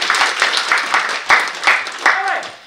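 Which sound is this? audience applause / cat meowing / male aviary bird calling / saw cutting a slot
audience applause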